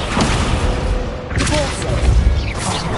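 A Confringo spell bursts in Hogwarts Legacy with a dense, booming blast amid continuous loud combat noise, a couple of sharp impacts standing out over the din.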